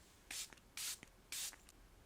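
M Cosmetics Divine Water setting spray is misted onto a face in three short, close hissing bursts, evenly spaced, in a quiet room.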